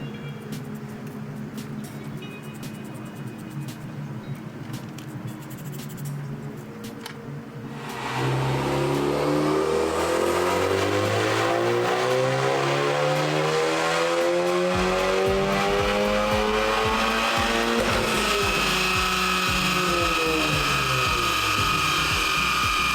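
A Honda Civic Type R FK8 revs hard on a dyno. A quieter workshop ambience with clicks gives way to a loud, rising engine pull that climbs steadily, then holds at high revs through the end.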